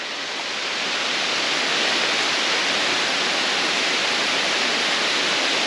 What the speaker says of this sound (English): Listen to the rain coming through the leaves.